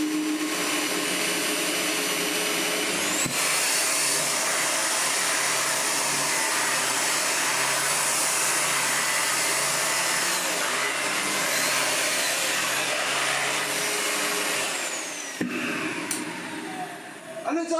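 A Vorwerk VK135 vacuum cleaner roars steadily at close range, with a broad whooshing motor tone carrying an odd noise, briefly dipping twice before the motor winds down near the end.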